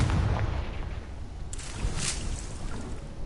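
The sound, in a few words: Confringo blasting spell explosion in video game Hogwarts Legacy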